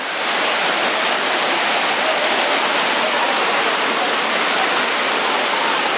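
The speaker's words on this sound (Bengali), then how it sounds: "ঝর্ণা আরো উঁচু" Waterfall in Kanching Park, Malaysia, roaring as a steady, dense wash of falling water, loud and close, unbroken throughout with no talk.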